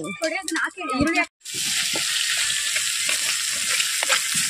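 Onions fry in a pot for chicken biryani cooked outdoors in a field. A person talks at the start, then a steady, close sizzle continues.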